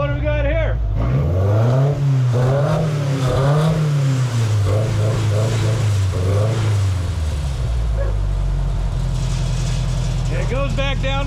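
A homemade buggy engine revs up and down several times in loud, rising and falling sweeps, then drops back to a steady idle before one final rev, heard up close and alone.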